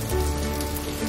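Steady rain pattering in a rainforest, a dense, even hiss of drops on leaves and surfaces throughout, with no voices.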